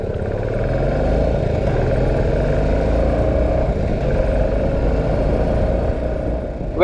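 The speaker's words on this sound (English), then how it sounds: "the compressed sound near the exhaust note and a smoothness in the engine" A Royal Enfield BS4 motorcycle engine runs steadily with a deep, compressed exhaust note, smooth and continuous, with slight revving toward the end.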